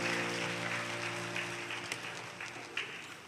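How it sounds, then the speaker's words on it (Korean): Church congregation applauding the newly baptised at a Sunday service, fairly soft clapping at a distance over a sustained organ or keyboard chord that fades partway through. "우리 다시 한번 학습 세례, 또 세례 받으신 분들께 우리 큰 박수로 환영하겠습니다"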